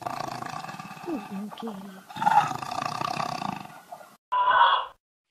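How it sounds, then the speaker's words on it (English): A tiger roars in several loud, close, rumbling bursts with growling grunts between them, ending in one last strong roar after a short silence. "Tiger roars."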